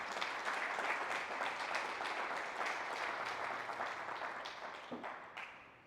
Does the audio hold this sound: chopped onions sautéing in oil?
no